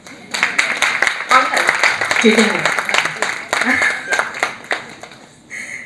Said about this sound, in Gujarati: હા તો તાળી પાડો ને